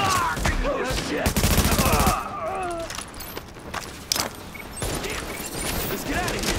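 Rapid bursts of automatic gunfire and single shots ring out in a firefight in the video game Tom Clancy's The Division, loud and close, with mechanical clatter between volleys and voices talking over the action.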